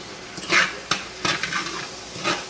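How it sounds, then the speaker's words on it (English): Food being stirred in a pan set to simmer on medium-high heat, with several scraping clinks of a utensil against the pan over a soft background sizzle. "we're just going to stir that in and kind of just let it simmer on medium-high"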